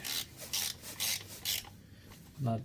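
A steel screw is snugged into an aluminum part on an Alfa Romeo Giulia Quadrifoglio, heard as four close, even ratcheting rasps followed by a brief knock.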